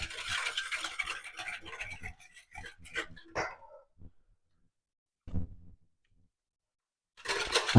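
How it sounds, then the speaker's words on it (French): A liquid gratin dauphinois mixture of potatoes, cream and salt being stirred, giving close swishing, scraping strokes for about four seconds, then one brief stroke and a final burst of stirring. "Et on mélange."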